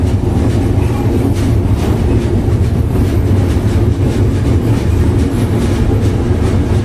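The Chitra Express intercity train rolls across the Jamuna rail bridge in Bangladesh, a loud, continuous rumble and rattle of wheels on track heard from inside the coach, with no talking.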